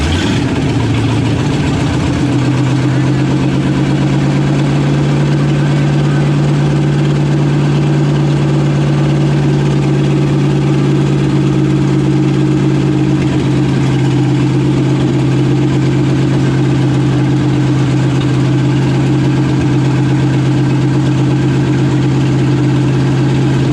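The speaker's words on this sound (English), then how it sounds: "the chokes closed out here, and that put it up on fast idle" A 1947 Ford engine runs steadily at fast idle with the choke closed, a loud, even, low rumble that holds throughout.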